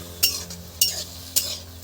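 Green peas are stirred in a pan for paratha filling, making three evenly spaced scraping strokes of a utensil against the pan over a soft sizzle, close up with no talk.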